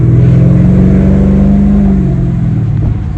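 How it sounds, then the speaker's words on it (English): A Mercedes CL550 engine and exhaust hold a loud, close, steady low growl that sags slightly toward the end, with no talking. "You can hear that exhaust."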